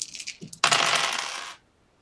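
A big handful of dice is rolled onto a table during a Dungeons & Dragons game, making a quick, close clattering rattle that lasts about a second and then stops, with no talk.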